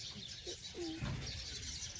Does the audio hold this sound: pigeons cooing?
yes